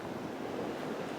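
Gusty wind on a very windy winter day by a beehive, a brief faint rushing buffet against the microphone with no voices.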